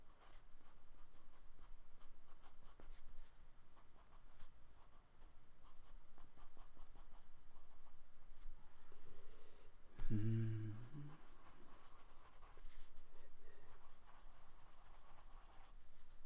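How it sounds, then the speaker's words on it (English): Graphite pencil shading and darkening the outer edge of a drawing of a cat on paper, a steady close scratchy rubbing that runs nearly the whole time with a brief louder knock near the middle. "use the pencil to give it a little darker outside"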